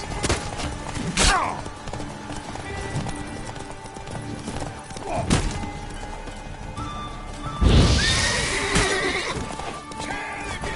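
Horse neighs loudly in The Witcher 3: Wild Hunt, a long whinny rising near the end amid clip-clopping hooves and scattered thuds from a game scene.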